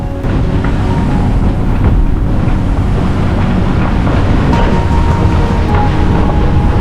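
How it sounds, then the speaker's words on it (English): Strong wind at sea roars over a boat motoring inside an atoll on both engines, a loud continuous blast with heavy microphone buffeting and a low rumble of waves and engine underneath. "Wow, it's windy up there, crazy."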